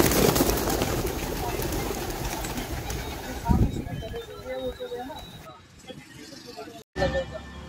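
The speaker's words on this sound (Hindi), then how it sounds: "ढेर सारे पक्षी हैं, कबूतर उड़ने वाले।" A flock of pigeons coos and flutters nearby in Jaipur, against an outdoor background of distant traffic, with a voice speaking briefly.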